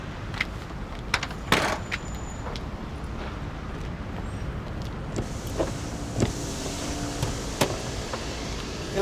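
Electric windows on a 2-litre, 16-valve car whir faintly in a quiet interior, with a few soft clicks and knocks scattered across the clip and no talk.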